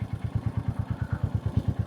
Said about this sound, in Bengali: মোটরসাইকেলের আওয়াজ,